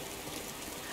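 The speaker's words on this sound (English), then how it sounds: "Why is it raining?" Steady rainfall in the Skyrim Anniversary Edition video game, a dense, even hiss filling the whole second with no breaks.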